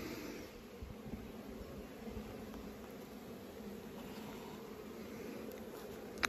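Honey bees in a small nuc hive give off a steady, soft, low buzzing drone that carries on evenly throughout, with no voices.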